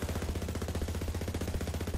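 Rapid automatic gunfire from Borderlands 3, a fast, even stream of heavy shots rattling continuously and close without pause.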